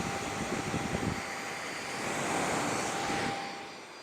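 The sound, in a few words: Vevor drill bit sharpener motor running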